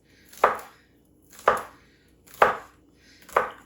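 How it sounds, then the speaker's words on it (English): A knife comes down four times in a rough chop on a cutting board, evenly spaced about a second apart, each a crisp close thud with a short scrape. "And then kind of a rough chop until we get to the size that we want."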